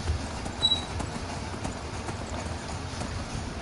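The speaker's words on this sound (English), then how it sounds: "I'm riding a horse." Horse hooves clip-clopping at a steady riding pace in the video game Skyrim, a continuous, moderately loud patter of hoofbeats over low ambient rumble, with no talking.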